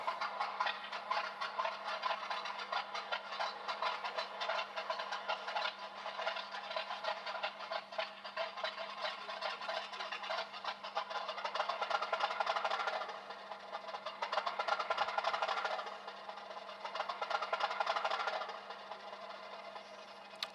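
A TT:120 scale Hornby model locomotive runs on the track with a quiet, continuous whirring and rattling, a faint steady hum beneath and small surges in level as it moves.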